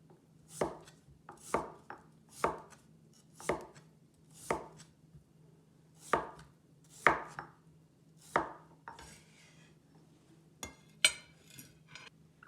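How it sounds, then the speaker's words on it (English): A knife chops carrot and potato into chunks on a board, a dozen or so crisp, evenly spaced thuds in a slow steady rhythm, close and clear against a quiet background with a low hum. "Cut the carrot into chunks. Do the same with the potato."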